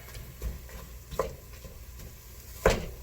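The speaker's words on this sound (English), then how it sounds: "we're just gonna get in there and chop up this ground beef" A spatula scrapes and chops partly frozen ground beef in a frying pan, giving a few soft, separate knocks and scrapes over a quiet background.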